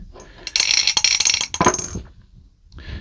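Dice clatter and tumble across a hard surface, a quick burst of sharp rattling clicks that settles within about a second and a half, followed by a brief faint rustle.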